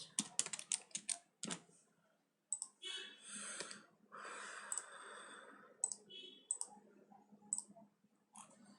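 Java code is typed on a computer keyboard: quick bursts of close, crisp key clicks with brief pauses, some longer runs of rapid tapping, and no voice over the keys.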